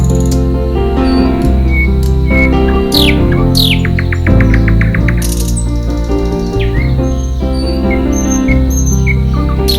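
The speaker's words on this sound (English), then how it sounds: "these birds are so wonderful" Several birds chirp, trill and whistle in quick overlapping bursts, with rapid rising and falling calls close by over a steady background; no talk.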